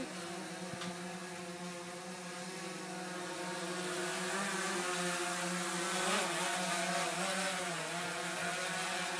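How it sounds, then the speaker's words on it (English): A DJI Phantom 3 Pro drone flies with a steady buzzing whir of its rotors that swells gradually louder, its pitch wavering slightly as it climbs nearby. "Let me get the drone up there."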